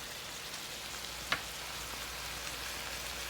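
Fish frying in a pan gives a steady, even sizzle with a soft crackle throughout, and one brief tap stands out partway through.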